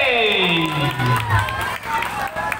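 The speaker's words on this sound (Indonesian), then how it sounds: "Tepuk tangan yang mulia untuk Bapak Taufik SE" An audience at a school talk show event cheers and claps to welcome a guest speaker, a loud, dense crowd roar with shouting voices and a sweeping tone over it, continuous for a few seconds.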